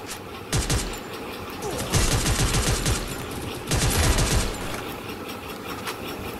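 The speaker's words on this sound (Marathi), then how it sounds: "कुठून गोळ्या चालतात?" Rapid automatic gunfire from the Free Fire battle royale game, three loud sustained bursts separated by short pauses over a steady low background.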